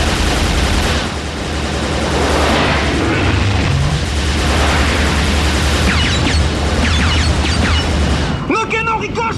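Cannon fire in a science-fiction space battle comes as loud, rapid volleys of booms and blasts with a low rumble beneath, and excited shouting voices over the barrage.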